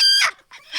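Loud, close clucking from hens kept in a coop: two short, sharp bursts with a brief pause between, and no voices.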